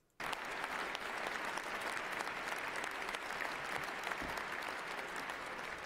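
A large crowd at Donald Trump's inauguration rises in a standing ovation, dense sustained applause starting abruptly and holding loud and steady throughout with faint crowd noise mixed in.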